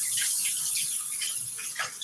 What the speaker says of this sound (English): So let me rinse my hands.